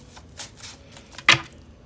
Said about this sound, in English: Am I not shuffling this shit?